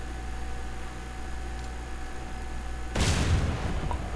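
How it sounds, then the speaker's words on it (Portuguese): In Grand Theft Auto San Andreas, a bomb thrown at a character blows up with a sudden sharp blast that crackles across the whole range and then fades, following a few seconds of steady game hum. "Vamos jogar uma bombinha aqui no cara."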